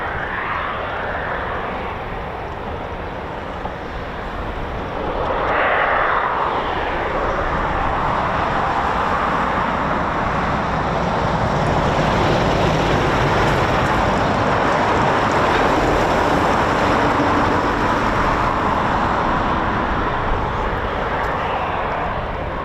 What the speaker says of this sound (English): there's more aircraft spooling, more Typhoon spooling for us to enjoy